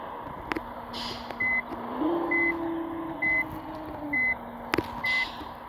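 A bus backs into a parking spot, its reversing alarm beeping at a slow even pace over the low rumble of an idling engine, with sharp air-release hisses near the start and end.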